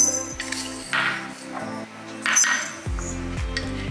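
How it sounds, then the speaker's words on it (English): Mustard seeds and celery seeds going into glass jars, a run of bright clinks and ringing taps of glass and metal spoon, several distinct strikes in an uneven rhythm, close and clear, with no voices. "to each jar, we are going to add 2 teaspoons of mustard seeds into the jar and 1 teaspoon of celery seeds"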